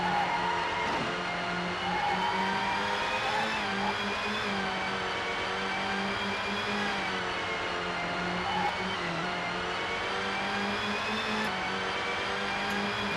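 A race car engine in the racing game GT 64 Championship Edition drones in a sustained, whiny buzz with slight pitch shifts, steady and moderately loud, with no talk.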